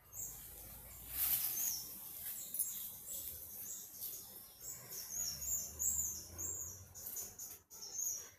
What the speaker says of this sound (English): the tiny birds visit here.